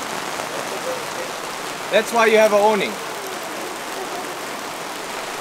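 Heavy rain falls on a camping awning during a 4x4 trip in the Karoo, a steady, close hiss that runs throughout, while someone speaks briefly midway over it.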